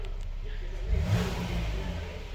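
A 2022 Hyundai Palisade engine snapped from idle, revving up in a quick rise around the middle before settling back to a steady hum, close and continuous.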